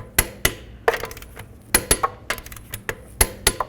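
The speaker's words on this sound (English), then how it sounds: "Torque your lug nuts to 110 foot-pounds." A torque wrench clicks and clinks sharply as it tightens the rear-wheel lug nuts on a 2006-10 Dodge Charger, a handful of crisp metallic ticks in irregular bursts with brief gaps of quiet between them.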